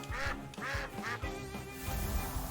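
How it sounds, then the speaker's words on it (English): A duck in the Temtem video game quacks in a rapid series of loud, nasal calls, close up, over a low game background and with no talking. "I hear those ducks, that quack sound"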